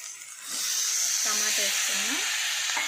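Tomatoes hit a hot pan for a village-style sesame chutney, setting off a steady hiss and sizzle that swells after the first half second and carries on, with a voice speaking briefly over the frying.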